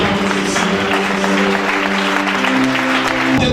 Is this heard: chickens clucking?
no